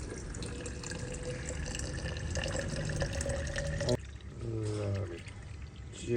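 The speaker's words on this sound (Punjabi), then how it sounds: "ਇਹਨਾਂ ਨੂੰ ਤਾਜ਼ੇ ਪਾਣੀ ਨਾਲ ਭਰ ਲੈਣੇ ਆ ਠੰਡਾ ਪਾਣੀ ਆ" Cold water runs from a tap into water bottles, a steady gushing stream with a shift in pitch partway as a bottle fills, set against a busy public place.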